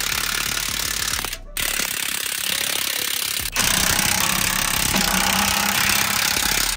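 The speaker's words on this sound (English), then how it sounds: "We're about to tighten up the shackles." Rapid, loud mechanical hammering from tools tightening a truck's leaf spring shackles, dense and continuous with short breaks, close to the microphone.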